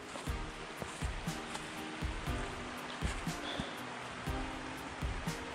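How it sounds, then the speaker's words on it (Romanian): The Slănic river near Slănic Moldova flows steadily, a dense continuous rush of water with faint taps and drips over it, heard up close without voices. "Deci, cred că suntem pe râu, în dreptul râului Slănic."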